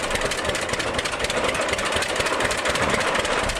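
A tractor engine in the farming video game Agricultural Simulator 2013 runs at a steady, rough drone. The sound is loud and continuous and keeps a constant pitch, with no other sounds over it.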